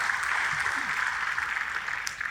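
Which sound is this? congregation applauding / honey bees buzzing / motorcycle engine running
congregation applauding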